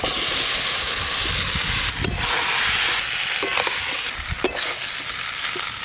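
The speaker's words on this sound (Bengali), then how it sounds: "এবার ভেজে রাখা আলু আর ওল একসঙ্গে দিয়ে দেব।" Fried potatoes and elephant foot yam are stirred into a sizzling spice paste in a pan, with a constant close frying hiss broken by several sharp scraping strokes of the spoon.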